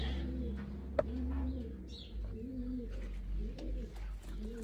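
Sylheti Teddy pigeons coo repeatedly in a loft, soft rhythmic rolling calls at close range over a low background hum, with a brief click and faint chirps.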